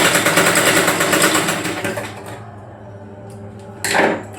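A sewing machine runs a fast, even stitch across joined cut fabric pieces for about two seconds, then stops. Quiet handling noises follow, and a short loud burst comes near the end.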